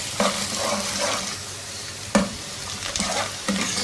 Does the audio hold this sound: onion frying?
yes